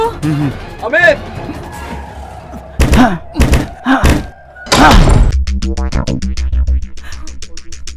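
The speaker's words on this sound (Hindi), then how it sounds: "ससुर जी दरवाजा तोड़ो" Heavy thuds and a slam as a door is forced and broken down during a tense indoor drama scene, loud repeated impacts amid shouting voices, followed by a rattling crash.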